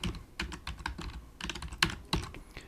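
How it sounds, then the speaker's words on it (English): Typing an IP address on a computer keyboard: a quick run of light, close key clicks in an uneven rhythm, faint and with no talking. "just type in the IP address of the camera"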